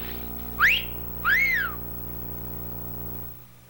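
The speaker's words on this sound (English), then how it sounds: "If you want to shave slick as a whistle, just whistle." Two bright rising whistle notes from a Just Whistle razor commercial: a short upward sweep followed by a longer arching tone, both clear and close over a faint steady background hum, then quiet.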